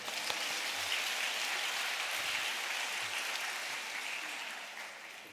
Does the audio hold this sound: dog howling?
no